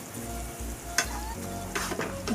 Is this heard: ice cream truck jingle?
no